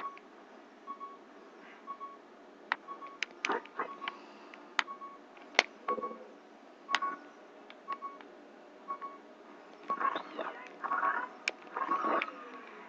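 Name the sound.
low-health warning beeping in video game Zelda: Ocarina of Time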